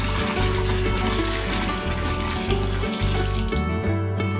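Water pours steadily from a tap while being measured into a batch of homemade grape wine, a continuous close rushing splash that stays loud and even before easing toward the end.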